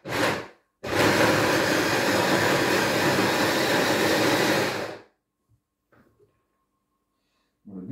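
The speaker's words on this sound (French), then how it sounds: "le but, c'est juste de venir mixer un petit peu les tomates" A blender whirs loudly while mixing lacto-fermented tomatoes, a short pulse followed by a steady four-second run that stops abruptly, leaving near silence with a few faint clicks.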